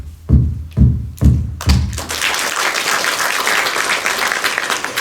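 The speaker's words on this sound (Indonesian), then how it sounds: "secara resmi dengan 5 ketukan palu" Four or five heavy wooden gavel knocks at an official government opening ceremony, loud and evenly spaced, immediately followed by sustained applause from the gathered audience.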